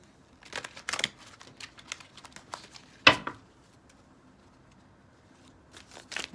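Tarot cards are shuffled by hand close by, a quiet run of soft papery flicks and taps with one sharper snap partway through and a brief pause before a few more riffles.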